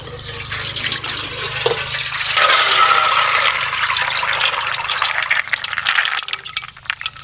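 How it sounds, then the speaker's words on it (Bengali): Soaked lentils tipped onto a perforated plate, water pouring and splashing through the holes in a steady rush that tapers into trickles and drips toward the end. "তো এখন ডালটা থেকে জলটা ঝরিয়ে নেব।"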